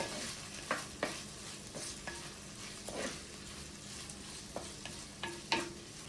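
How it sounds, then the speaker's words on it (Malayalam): Chopped onions sauté in a pan for a traditional Kerala dish, with a soft steady sizzle broken by sharp scraping clicks from stirring, fairly quiet and without talk. "ഇനി ഇതിലേക്ക് 2 സവാള ചെറുതായിട്ട് അരിഞ്ഞു വെച്ചിരിക്കുന്നത് ചേർത്ത് നന്നായിട്ടൊന്ന് വഴറ്റിയെടുക്കാം."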